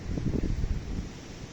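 Strong night wind in Gelendzhik on a cold April evening roars as a low, rumbling gust buffeting the microphone, steady and close throughout the short stretch with no voices.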